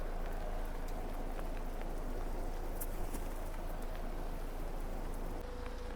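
Steady, even rain falls throughout, an unbroken wash of patter close by on a street in Prague's old town, with no voices.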